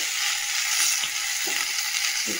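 Ivy gourd (kundri), salted and seasoned with turmeric, fries in a pan with a steady close hiss and sizzle, broken by a couple of soft stirring scrapes, and nobody speaks.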